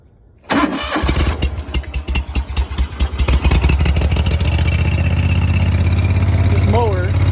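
A 1997 Bobcat lawn mower made by Ransomes cranks with rapid chugging, then catches and settles into a loud, steady, close engine drone.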